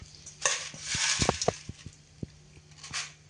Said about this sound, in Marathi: आता आपण तमालपत्र भाजून घेणार आहोत.